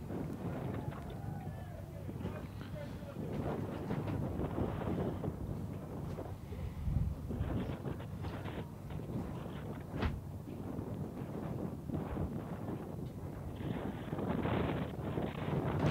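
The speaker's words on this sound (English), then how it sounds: "A little bit of gust of wind coming through, and if you can hear," Gusty wind buffets the microphone at an outdoor rugby league match between Pukekohe and Ellerslie, loud low rumbling surges rising and falling under ongoing commentary.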